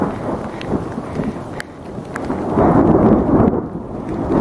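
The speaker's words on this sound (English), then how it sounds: "Thunder still rolling, and you just probably saw a lightning flash." Thunder rolls through a mountain thunderstorm on the John Muir Trail near Thousand Island Lakes, a low, broad rumble that swells and grows louder toward the end, mixed with wind and rain noise.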